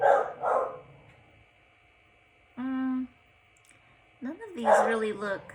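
Inside a house, a dog gives one short, close bark during a pause in a person's talking, with speech before and after it.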